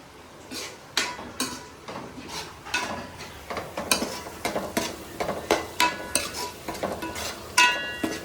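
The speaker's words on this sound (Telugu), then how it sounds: "కొంచెం వేగాలండి పచ్చివాసం పోయే వరకు" Crab masala sizzling in a pan while a utensil scrapes and stirs it in repeated strokes, close and clear with metallic clinks, no voices.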